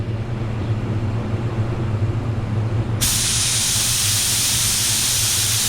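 A 3M Performance paint spray gun with a 1.4 tip sprays sealer at 22 psi in a paint booth, a loud, steady airy hiss that grows brighter and harsher partway through as the trigger opens fully.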